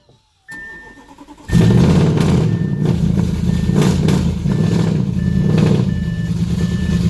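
An Audi S7 with a near-straight exhaust cranks briefly, catches and starts, then keeps running with a loud, rough idle while a repeating electronic beep chimes over it.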